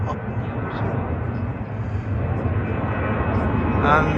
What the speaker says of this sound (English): And there's an aeroplane.